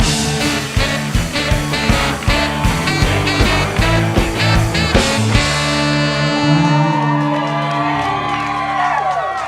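A comedy club crowd cheers and whoops loudly for comedian Hans Kim, dense shouting and applause that then settles into a sustained roar of voices.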